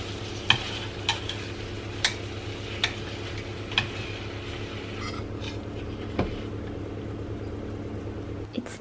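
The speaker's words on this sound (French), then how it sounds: "Faites dorer la sauge." Sage leaves frying in melted butter in a large sauté pan, a soft continuous sizzle with occasional sharp ticks and utensil knocks, a low hum running underneath.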